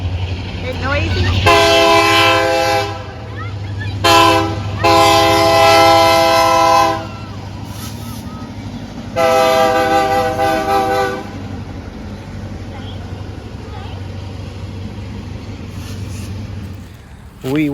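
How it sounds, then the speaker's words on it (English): A train passes nearby in rural Florida with long blasts of its horn, loud and close, separated by gaps. A low rumble of the rail cars runs underneath. "The train's coming."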